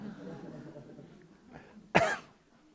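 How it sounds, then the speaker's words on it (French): A single sharp cough from a lecturer in a university amphitheatre, near and fairly loud, following quiet speech. "quand je tousse, ça fait éternuer au fond de l'amphi"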